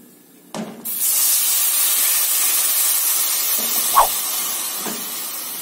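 Water is poured into a hot pan of parboiled rice, setting off a loud sizzling hiss that holds steady, with a few utensil clinks over it.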